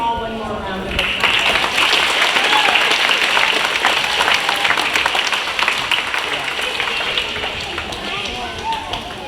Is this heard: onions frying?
no